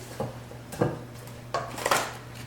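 Raisins are gently stirred into pumpkin bread batter, with a spoon clinking and scraping against the bowl in a few soft, separate knocks and scrapes, close by and with no talking.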